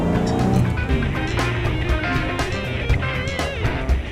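A Jaguar E-Type's engine growls, with a throaty exhaust and varying revs, loud and close throughout.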